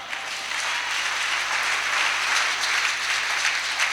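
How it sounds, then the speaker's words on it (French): Congregation at a church service breaking into sustained applause, a dense, even wash of many hands clapping that holds steady from start to finish. "Si vous êtes là, donnez-moi vos acclamations."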